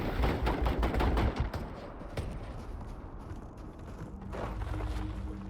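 Rapid gunfire crackles during a combat fight in the space game Starfield: dense bursts of sharp shots, loudest at the start, then thinning into scattered reports over a steady background of battle noise.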